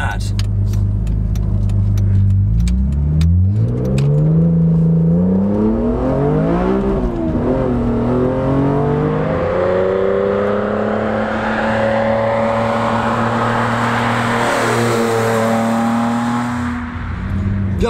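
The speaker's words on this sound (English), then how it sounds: "The other thing that is noticeable as soon as you step into this car is how it revs." A BMW Z4 M Coupe engine climbs through the revs under hard acceleration, pitch rising smoothly through several gears with brief drops at each shift, loud and close from inside the cabin, with talk over parts of it.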